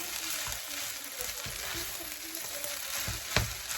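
Fried rice with eggs and vegetables sizzling steadily in a pan, a close, constant frying hiss with occasional clinks and scrapes of stirring.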